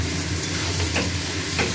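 Googli (freshwater snails) sautéing in a pan, a close, steady dense sizzle with a couple of brief scraping stirs and no voices.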